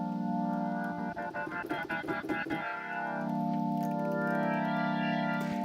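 A steady FM synthesizer tone on a YC Series keyboard whose timbre turns buzzy and rapidly pulsing as the modulator is brought in on the carrier, then settles back into a smooth, bright sustained drone, with no voices.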